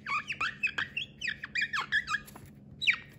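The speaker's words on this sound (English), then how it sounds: "this Sharpie on the Duralar makes a very satisfying squeaking sound if you are writing a lot of stuff" A Sharpie marker drawing on Duralar film squeaks in quick, high, chirping strokes, a dozen or so short squeals in an uneven rhythm, close and clear, with no voices.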